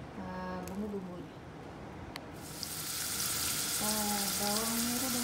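Shallots and spices stir-fry in a pan for spicy squid, a soft sizzle that swells into a louder, steady hiss partway through. A voice speaks over it at the start and again near the end.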